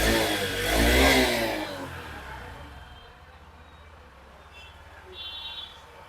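A Honda Livo BS6 motorcycle engine revs briefly up close and then falls back to a faint, smooth idle, with a short light blip near the end.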